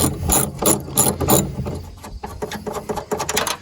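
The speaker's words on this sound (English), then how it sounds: "So now we're gonna loosen both of the bottom bolts, take them out" Hood bolts being loosened on a Mk4 Volkswagen Jetta, a close run of quick metallic ratcheting clicks in short bursts with brief pauses between them.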